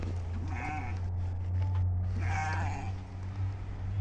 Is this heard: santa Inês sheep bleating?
yes